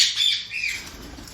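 Pet parrots kept for breeding give a short, bright squawk close by, a single harsh call followed by a softer fading tail, with no talking.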